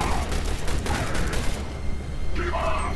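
Gunfire in the video game The Bureau: XCOM Declassified, a dense burst of rapid shots and impacts filling the first half, then continued combat noise under a brief voice.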